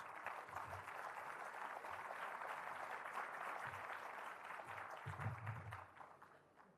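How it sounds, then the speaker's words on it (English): Sustained, dense applause from a crowd at an awarding ceremony, steady for several seconds before tapering off at the end. "Please welcome him with a loud round of applause."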